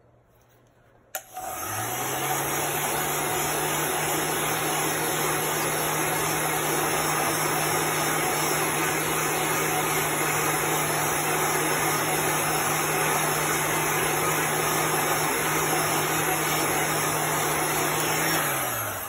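A handheld heat dryer blows steadily on chalk paste applied to a t-shirt, a loud, continuous close whir that switches on after a brief moment and runs unbroken to the end with no talk.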